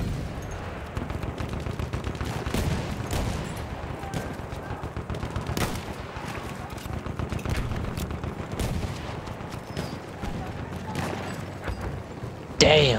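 Sustained battlefield gunfire in Battlefield 1, dense rapid shots and machine-gun bursts with heavy booms, loud and continuous for the whole stretch, with a player talking over it.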